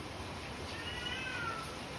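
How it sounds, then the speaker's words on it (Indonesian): A cat meows in a short, drawn-out cry, fairly faint and distant over a steady background hiss. "ini ada kucing aku teriak-teriak"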